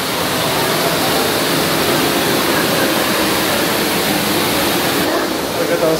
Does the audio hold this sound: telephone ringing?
no